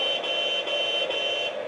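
A continuous electronic beep from the TBS sound system fitted to a Lesu 9150 hydraulic RC backhoe excavator, a shrill, steady tone with faint rhythmic dips, close and alone.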